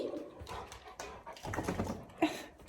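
A dog in a garage being renovated makes soft, high whimpering and whining sounds in short bursts, quiet and close, with brief breathy pauses between them.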